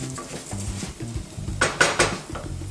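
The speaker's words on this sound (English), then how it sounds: "Go ahead and give it a stir." Rice toasting in oil in a pan for Mexican rice is stirred, giving a few close clinks and scrapes of a utensil against the pan around the middle, over a low background hum.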